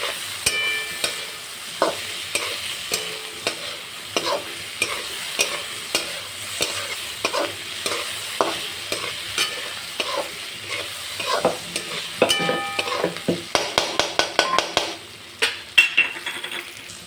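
Fried vegetables and chopped boiled potatoes are stirred in a pan for a mung bean pulao, a spatula scraping and clinking in repeated strokes over a soft sizzle, closer and busier toward the end.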